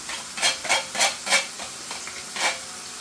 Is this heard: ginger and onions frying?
yes